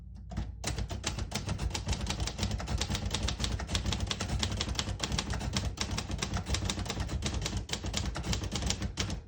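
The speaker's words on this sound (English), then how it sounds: "Beautiful typing machine." A 1957 Royal Quiet De Luxe portable typewriter typing steadily at close range, a dense run of rapid key strikes continuing for several seconds with no talking.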